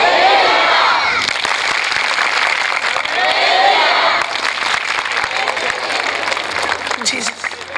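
A church congregation at a Zion festival gathering claps in dense, continuous bursts, mixed with shouting and cheering voices that rise and fall, loud and close throughout.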